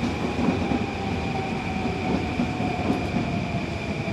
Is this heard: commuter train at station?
yes